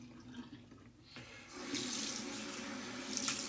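Tap water runs steadily from a faucet into a sink during a wet shave with Proraso Green soap and an Autostrop razor, starting quietly then swelling to a continuous close splashing hiss.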